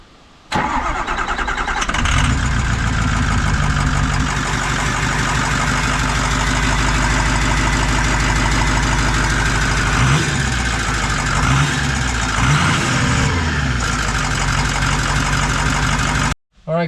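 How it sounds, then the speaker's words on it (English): A 6.0 Powerstroke diesel truck fitted with a triple turbo setup cranks and fires, then settles into a steady, loud idle with a deep throbbing rumble that runs for about fifteen seconds before cutting off. A voice speaks briefly near the start. "now that we got all connect back together, we're gonna go ahead and fire it up"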